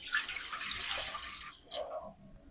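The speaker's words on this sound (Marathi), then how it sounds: "त्यात आपण एक तांब्याभर पाणी घालायचंय" Water is poured from a vessel into a pot on a gas stove to be boiled, a steady close rushing pour lasting over a second, then a short lighter trickle and splash, with no talking.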